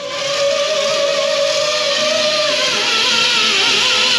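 A truck fitted with a hoist maneuvers diagonally into position, its engine droning steadily and loudly close by with a faint high whine and no voices.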